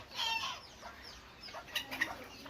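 Bantam chicken in a coop clucking faintly, a few soft short calls spread across the moment with quiet background noise and no talking.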